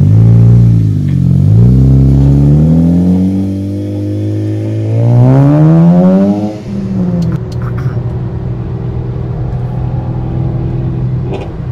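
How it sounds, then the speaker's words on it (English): A Ford Focus engine revving in several rising and falling sweeps, loud and close, then settling into a steady idle rumble, with no talking over it. "Rev it."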